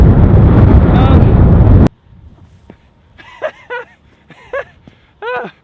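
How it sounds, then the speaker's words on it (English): Heavy coastal wind roars and buffets a microphone for nearly two seconds by the Delta Works storm barrier in the Netherlands, then cuts away to quieter outdoor sound with bursts of bird-like calls. "oh my god, it's so windy!"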